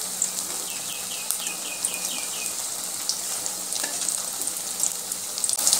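Stuffed kakrol, or spiny gourd, fries slowly in oil over a medium gas flame, making a soft, continuous close sizzle with faint crackles and a few light chirping pops.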